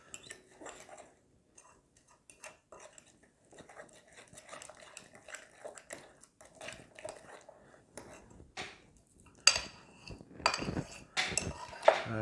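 Keto chaffle batter, made with egg and cream cheese, being mixed in a bowl: intermittent clinks and scrapes of a utensil against the dish, quiet and close, growing louder and busier toward the end.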